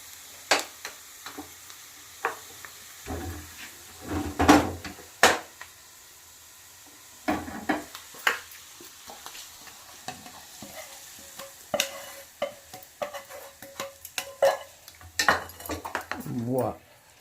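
A tadka of fenugreek seeds in hot oil sizzles in a pan amid repeated sharp spoon clinks and scrapes against the metal, bursts of hissing between quieter gaps, with someone speaking at moments.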